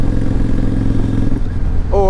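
A 2005 Kawasaki Vulcan 800 Classic cruiser motorcycle engine idles and rumbles steadily up close, a low throbbing drone with a brief higher whine near the end.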